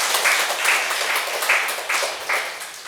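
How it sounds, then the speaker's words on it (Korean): A church congregation at an autumn revival service applauds, loud and close, a dense burst of clapping with a few rhythmic surges. "박수 좀 한번 쳐봐요."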